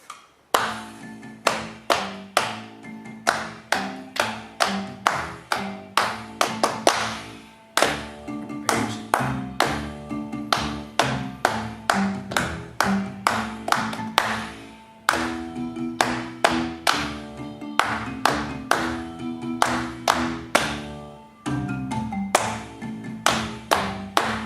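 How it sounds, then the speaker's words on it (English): Hands clap a set rhythm from a beginner piano etude book, sharp close claps in a steady pulse with short pauses between phrases and no talking. "Let's now clap the rhythm that's written in the book"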